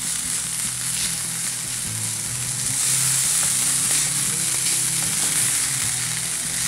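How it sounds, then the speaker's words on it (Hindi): Chopped onions softening in a hot pan for a potato samosa filling, a steady close sizzle with soft stirring scrapes now and then, no speech over it. "ये तकरीबन मैंने सिर्फ 2 मिनट यहाँ पर प्याज को सॉफ्टन किया है"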